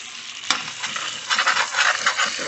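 Potatoes frying in bacon grease crackle and hiss up close, with a sharp utensil knock followed by repeated scraping strokes across the pan bottom as they are stirred.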